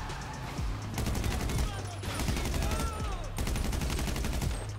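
Dense bursts of rapid gunfire and explosions fill the scene continuously in GTA 5 Online, with sharp repeated shots overlapping and no pauses.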